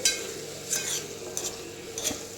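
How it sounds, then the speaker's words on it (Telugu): Steady sizzle of coriander leaves and tomatoes frying in oil for chutney, with a few soft scraping stirs at intervals, close by and moderately quiet. "కొంచెం ఇవి పచ్చివాసన పోయి కొంచెం నూనెలో కొంచెం డీప్ ఫ్రై అయితే సరిపోతుంది"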